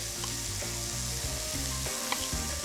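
Onions frying in a pan, a steady close sizzle with occasional light pops, under soft tonal background music, no voices.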